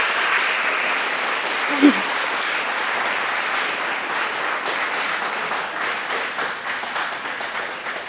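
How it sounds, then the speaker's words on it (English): At a 2016 senior presentation, a school audience gives sustained, moderately loud applause that stays even throughout and thins slightly near the end, with one brief word spoken early on. "So please give her a round of applause for everything that she did for"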